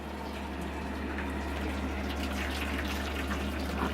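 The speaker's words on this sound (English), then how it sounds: "take boiling hot water, about a liter of it, and put it in the bottom of this pan" Hot water pours steadily into the bottom of a pan during chilli canning, a continuous, fairly soft watery rush filling the whole moment with no talk.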